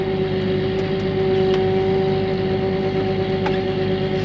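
Tractor engine running steadily near the microphone, a constant droning hum with a strong tonal whine and no change in pace.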